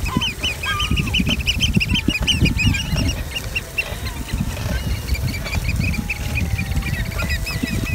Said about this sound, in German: Es sind so viele Vögel, die man hört.